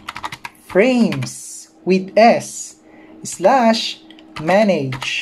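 Quick keyboard clicks open the stretch as a web address is typed on a computer, then a person talks over the remainder with little further typing audible.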